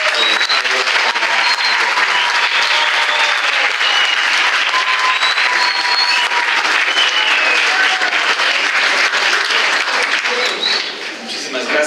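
Sustained, loud audience applause fills a book-launch presentation hall for nearly twelve seconds, steady and dense before thinning slightly at the very end.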